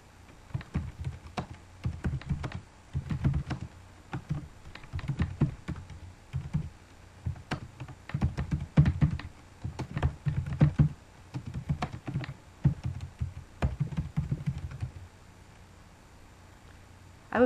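Fingers typing on a computer keyboard while entering text into an Excel 2007 spreadsheet; steady runs of soft, close keystroke clicks in bursts with short pauses, quiet and without talking.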